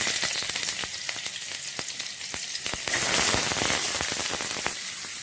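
Chopped onion with cinnamon stick, cloves and cardamom sizzles and fries in a pan. It gives a loud, steady crackle that grows louder partway through, with no talking.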